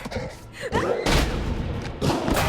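In the horror video game The Quarry, a rifle shot lands as a heavy boom and rolls into dense, sustained blasts with rumble. It sits amid game audio, with the crack and its aftermath loud and close.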